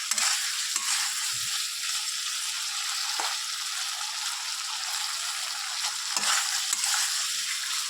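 Spice paste fries in a pan with a steady, close sizzling hiss, broken by a few soft scraping strokes of stirring; no voices, just the continuous frying noise throughout.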